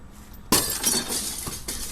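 A glass window smashed by someone hitting it with a shoe, a sudden loud crack of breaking glass followed by scattered tinkling shards and a final sharp knock.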